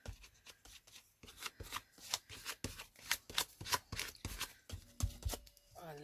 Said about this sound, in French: je vais en rajouter un petit peu par-dessus et étaler à la carte pour tout bien coller.